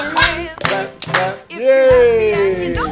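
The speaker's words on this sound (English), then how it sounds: "clap your hands." Hands clap sharply in a steady beat along with singing of the children's song "If You're Happy and You Know It" at a family gathering, with the voices carrying the tune between claps.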